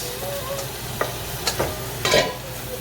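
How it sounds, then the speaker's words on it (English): Pancit noodles and vegetables are stir-fried in a pan, with a steady sizzle and a few sharp scrapes and knocks of a utensil tossing the food. "stir fry it together"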